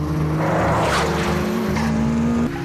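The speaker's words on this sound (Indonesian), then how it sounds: "Gak sengaja dia dibuntuti Nakazato dengan Nissan GT-R-nya, dan aksi balap liar pun terjadi." Street race on a mountain road between a Toyota AE86 and a Nissan GT-R, with loud continuous engine roar, rising and shifting in pitch, and tires squealing through drifting corners, close and dense throughout.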